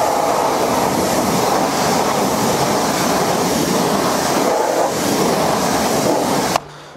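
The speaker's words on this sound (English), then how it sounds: "for people without a pressure washer, you can just use a hose, yep. Stick your thumb on the hose almost" A garden hose with a thumb pressed over its end sprays water hard onto a car wheel, a loud, steady hissing rush that runs unbroken for several seconds before cutting off abruptly.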